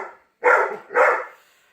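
Two agitated dogs barking indoors at doves outside, two sharp, loud, close barks about half a second apart after a brief softer whine.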